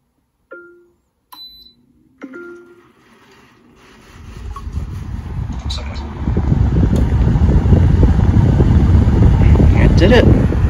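A window air conditioner switched on by voice command through a Sensibo controller starts up from quiet, building into a loud, steady fan and airflow roar after a few scattered clicks and beeps.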